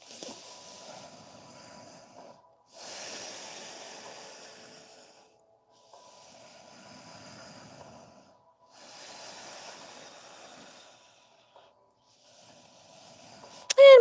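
Slow, deliberate nasal breathing during a yoga class comes in soft, airy hissing inhales and exhales, alternating in long even waves with quiet pauses between, close and gentle.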